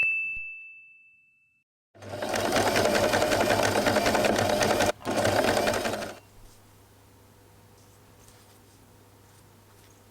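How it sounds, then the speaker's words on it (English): A sewing machine stitches fabric for cat-ear scrunchies, a loud steady rapid whir lasting about four seconds with one short pause. It comes after a lone ding and drops to a quiet hum once it stops. "Flip the fabric and we are going to sew exactly on the mark."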